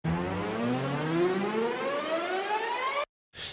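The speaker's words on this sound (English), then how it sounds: "It's going to give you a riser that is less cheesy sounding than a supersaw or like a super EDM synth." Big Nexus synth strings sweep upward in a long pitch-bend riser with a wide bend range, sustained and loud for about three seconds before cutting to silence, then a brief return.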